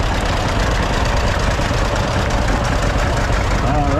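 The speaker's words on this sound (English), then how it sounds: "Frank Whittemire driving a John Deere 830" A 1959 John Deere 830 tractor engine idles at a classic tractor reunion parade, a loud, even low rumble that runs steadily throughout, with a voice talking briefly near the end.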